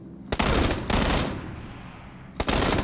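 Gunfire in PUBG, loud close bursts of shots in two dense volleys separated by a short lull, with game noise and no talk.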